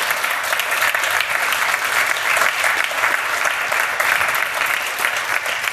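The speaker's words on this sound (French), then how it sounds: "je pense qu'on peut encore les applaudir" An audience at a startup pitch event at TRAKK applauds the presenting projects in a full, steady wash of clapping that continues unbroken throughout.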